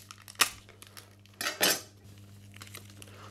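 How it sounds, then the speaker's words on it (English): A utensil stirs paprika into breadcrumbs and flour in a bowl for a spice mix, giving a few close clattering scrapes and clinks in two short bursts with quiet pauses between. "Mix it all together, and this will be our spice mix."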